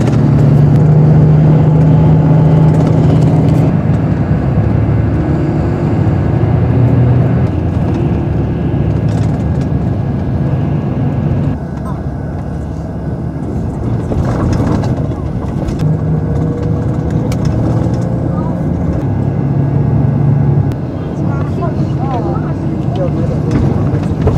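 Inside a fairly large city bus in China, a loud low engine drone and road rumble carry on throughout, shifting slightly as it drives, with people talking over it at times.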